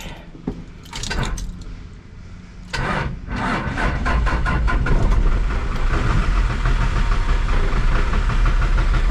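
A 1975 Chevy diesel engine with a runaway throttle fault cranks after a jump start, then catches and settles into a loud, steady, close-up rumbling run with rattling mechanical clatter and no talking.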